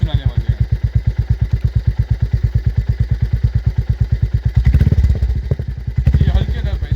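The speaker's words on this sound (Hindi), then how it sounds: "अब आपको इसका हम रैप सुनाने वाले हैं।" A Royal Enfield Classic 350 J series motorcycle fitted with a Red Rooster exhaust thumps along in a rapid, even beat for several seconds before the throttle is blipped into two short, louder revs, heard close up.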